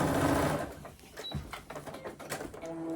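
A sewing machine stitches a curved panel of a crossbody bag, its needle running in a fast, steady mechanical chatter close by, with small shifts in rhythm as the fabric is eased along.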